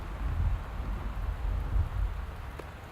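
Steady heavy rain pours throughout a thunderstorm in the video game Gone Home, with low rumbling thunder swelling underneath and a faint click near the end.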